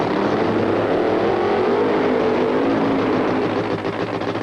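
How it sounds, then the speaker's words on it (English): A 1985 drag racing car, Ed the Ace McCulloch's, does a long smoky tire burnout at a Big Bud Shootout: a loud, sustained engine roar with a steady, dense rumble that holds at full volume with no pauses. "The long smoky burnout to heat the tires to provide the traction for Ed the Ace McCulloch"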